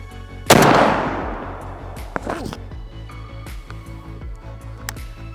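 A turkey hunting shotgun fires once, a loud sharp blast with a long decaying tail, followed by a few quieter clicks and handling noises.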